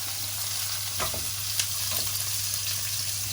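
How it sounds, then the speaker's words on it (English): Seasoned, marinated mullet fillets fry skin side down in a hot pan, giving a steady close sizzle with a few brief spits and crackles and no voices. "So that's going in the pan, skin side down, and watch it curl up."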